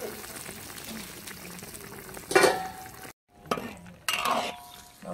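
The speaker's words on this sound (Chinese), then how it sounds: "搅动一下" Home-style tofu stirred in a pot, a few scraping, sloshing strokes with a bubbling simmer underneath, quiet overall with brief louder bursts and a short pause between them.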